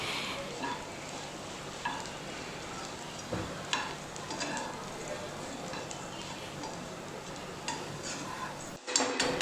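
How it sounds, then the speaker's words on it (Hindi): Poha being stirred and roasted in a little oil in a pan, a steady soft scraping and sizzling texture with occasional light clinks of a spoon against the pan, continuous and close, with no talk over it. "मैंने थोड़ा ऑयल डाला और उसके बाद इसको इस तरह से डाल दिया और चला लूँगी जब तक ये फूलने जैसा ना लग जाए"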